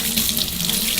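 A kitchen tap runs in a steady, continuous stream while hands are washed during cheesecake baking, the water close and even with no talking.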